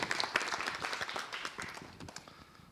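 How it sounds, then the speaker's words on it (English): An audience claps for a presenter after an astronomy and space physics capstone talk: a dense, fairly close patter of many hands that starts strong and gradually thins and softens over a few seconds. "Let's give him a round of applause"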